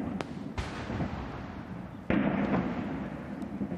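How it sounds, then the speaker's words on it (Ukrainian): A cannon salute for Japan's Emperor Naruhito's enthronement booms at intervals, distant and echoing, a sharp report standing out midway over a constant low rumble of outdoor ambience. "На дворі на честь імператора влаштовують гарматний салют."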